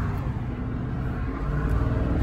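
A high-mileage Chevrolet Silverado pickup with a Vortec engine, given gas while driving, makes a steady low rumbling engine drone that swells slightly toward the end, heard from inside the cab.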